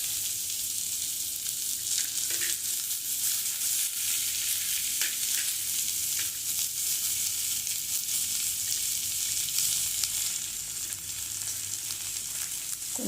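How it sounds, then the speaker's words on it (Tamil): Chopped big onion, with green chili and ginger, sizzling steadily in hot oil in a pan while being stirred now and then, a close, continuous frying hiss with occasional soft scrapes and no talking. "அப்புறமா அந்த பெரிய வெங்காயம் நறுக்கினதை போடணும்."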